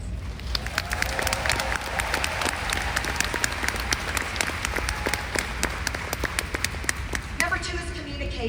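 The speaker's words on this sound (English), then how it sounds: "Would you give her a round of applause?" Seminar audience claps in a sustained round of applause, many hands beating fast and steady for several seconds before the clapping thins out near the end.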